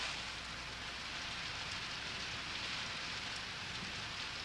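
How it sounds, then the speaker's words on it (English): Steady rain falls outside at night, a dense, even hiss of drops with no pauses, fairly close and filling the whole stretch with no voices over it. "In case you don't know it, it's raining."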